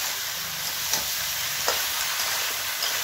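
Young jackfruit sizzles in spiced oil for a Bengali niramish kathal curry, a steady close hiss of frying with a few soft stirring taps.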